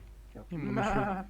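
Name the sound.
goat bleating in video game Barony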